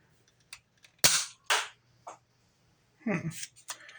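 Several sharp snapping shots from a Nerf Clampdown blaster, loud and close, with small clicks and handling noise between them.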